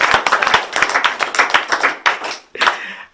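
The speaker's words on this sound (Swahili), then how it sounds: "Horai makofi hau we." A church congregation claps together in quick, uneven bursts of sharp close claps for about two seconds, then a short gap and a final flurry. No speech is heard.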